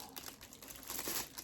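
Wrapping paper crinkles and rustles close up while a Jeffree Star Valentine's mystery box is unboxed, a brief busy burst of crackling with no voices.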